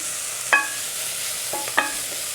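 Mexican oregano is stirred into a frying pan for sweet potato and black bean tacos: a steady sizzle under two or three light utensil clinks against the pan.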